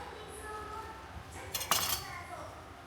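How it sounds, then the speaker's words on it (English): A kitchen knife cuts fresh tofu into smaller pieces, giving a few soft taps and one sharper clink against a board or dish, close and quiet under a low background hum. "Fresh tofu is cut into smaller pieces."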